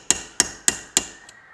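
A claw hammer strikes metal four times in an even rhythm, followed by a fainter fifth tap, each blow a sharp ringing clang, close and loud, during steering cylinder and tie rod repair on a Case David Brown 1394 tractor.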